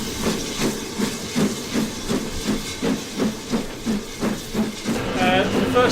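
A steam train at a platform hisses while standing, with a steady rhythmic pulsing of steam and then a louder, rising rush of venting in the last second.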